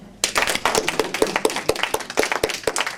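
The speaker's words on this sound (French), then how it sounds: "Gilles Roca l'applaudit" An audience applauding Gilles Roca, with dense, fairly loud clapping that begins abruptly and continues steadily to the end.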